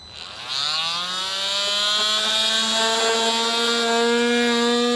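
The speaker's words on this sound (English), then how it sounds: "we'll come back with an oscillating tool" An oscillating multi-tool trims out a plastic interior panel piece during a trailer hitch install on a 2014 Lexus, spinning up and holding a loud, steady high-pitched buzz with rising tone, no voices.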